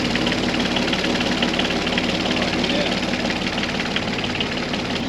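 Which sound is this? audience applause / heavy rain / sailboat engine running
sailboat engine running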